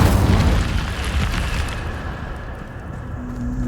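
A fiery blast of the Incendio spell in Hogwarts Legacy, a loud rumbling burst at the start that rolls on and slowly fades, with a faint rising tone near the end.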